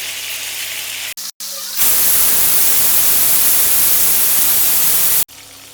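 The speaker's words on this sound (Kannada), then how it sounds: "ಕೈಮಾ ಉಂಡೆನ ನೀಟಾಗಿ ಫ್ರೈ ಮಾಡ್ಕೊಳ್ಳಿ" Mutton kheema balls fry in a pan with a loud, dense, steady sizzle that rises abruptly after a few short breaks and then holds evenly before cutting off.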